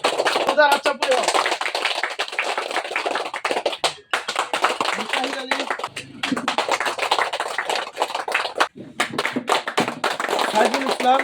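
A crowd at an Assam Minority Struggle Council joining rally in Singimari claps continuously, dense and fairly loud, with voices and shouts running underneath throughout.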